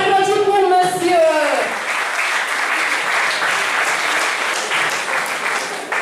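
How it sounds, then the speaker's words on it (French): Audience applause at a school journalism and media award ceremony, beginning over the tail of a spoken voice and then settling into steady, dense clapping from a sizable crowd that holds evenly throughout. "On applaudit pour monsieur."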